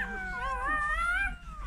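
Cold, hypothermic rescued puppies whimper close by in thin, high, wavering whines that rise and fall like a soft howl over a faint low background hum.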